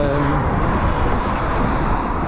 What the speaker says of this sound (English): That's if you can hear me with all these cars.